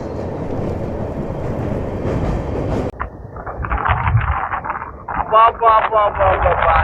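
A train crossing the new Pamban bridge on the Rameshwaram to Tambaram line rumbles steadily for the first three seconds amid heavy wind, then a person talks over the quieter, lingering rolling noise.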